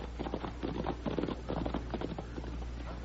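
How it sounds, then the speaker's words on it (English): Hooves clip-clop in a steady rhythm over a low hum, several horses trotting at moderate distance, no voices. "I hear horses."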